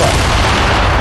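A C4 explosion in the Fortnite video game, a loud dense boom that fills the whole moment with no quiet gap and no talk.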